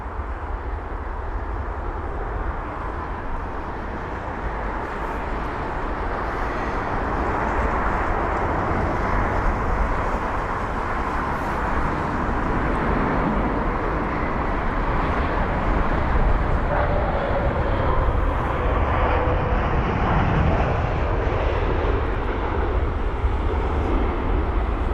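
Boeing 787 Dreamliner airliner landing at London Heathrow, a steady broad roar of jet engines that holds loud and distant-to-near throughout, with no speech.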